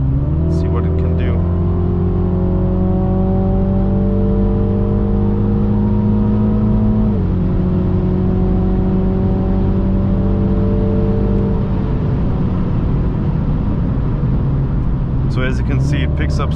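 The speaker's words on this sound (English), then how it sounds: "So let's accelerate a bit, put this car into sport," A 2022 MINI Cooper JCW GP Edition accelerates hard in sport mode from inside the cabin, engine tones climbing through gears with one shift midway, a loud continuous whine and rumble throughout.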